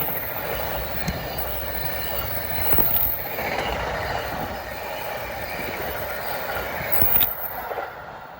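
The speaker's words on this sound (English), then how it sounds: "Catching me by surprise at 4:53 was the Pennsylvanian, train 42, en route from Pittsburgh to New York" Amtrak Pennsylvanian, train 42, passing through the station at Rahway, a steady rolling wash of rail noise with faint wheel squeal and a couple of brief louder swells, heard from trackside.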